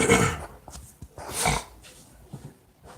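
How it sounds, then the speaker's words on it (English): Several short, sharp nasal sniffs and snorts at uneven intervals, fairly close, with faint breathy noise between them. "That's why I'm sniffing like this."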